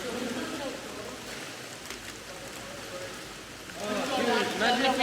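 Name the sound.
loud waterfall water echoing under a tunnel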